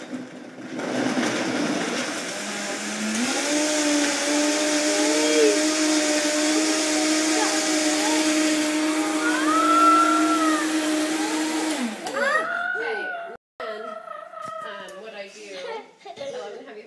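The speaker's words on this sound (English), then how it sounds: "Okay, so we're going to blend that up." A blender making a green smoothie with fruit whirs loudly and steadily for several seconds, its pitch shifting as it works, then cuts off; a voice follows.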